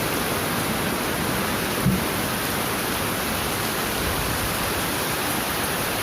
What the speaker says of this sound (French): Ah, savourez, il pleut.